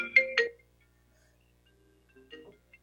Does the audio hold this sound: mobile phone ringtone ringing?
yes